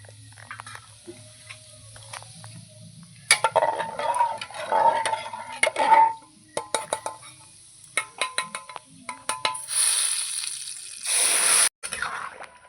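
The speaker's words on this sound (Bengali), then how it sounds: "ভালো করে নেড়ে চেড়ে নেব" A spoon scrapes and knocks around a cooking pot as mung dal and rice are stirred for a special mung dal with taro and prawns, in irregular clusters of close scraping and clinking with a faint sizzle between strokes.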